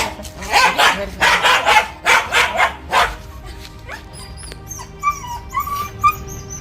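A dog barks repeatedly in a quick run of loud yips and barks at a baby spectacled cobra, then quiets as chirpy background sounds continue.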